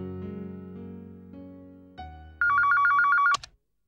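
A telephone rings after a number is dialed: short dial tones come first, then a loud, rapid electronic ring burst that stops abruptly, leaving silence.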